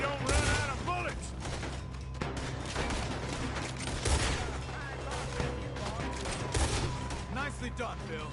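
Video game shootout with repeated gunshots and rapid bursts of fire throughout, loud and close, while voices talk over the shooting.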